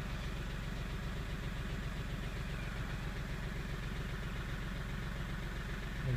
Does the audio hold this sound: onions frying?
no